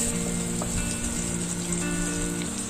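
Two large chopped onions sizzle in a pan for egg curry and are stirred now and then. The frying hiss is even and continuous at close range, with faint tonal background sound and no talking.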